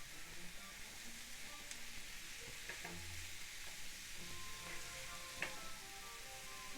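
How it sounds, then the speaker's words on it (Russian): Steady sizzling and crackling of mushrooms frying in a pan with onions, with occasional clinks of a utensil stirring, continuous and close. "пока грибы жарятся"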